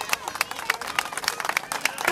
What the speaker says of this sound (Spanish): Un aplauso para la yegua también.